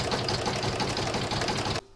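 An embroidery sewing machine stitches a spider's web design at a rapid, even mechanical chatter, loud and close for nearly two seconds before cutting off sharply.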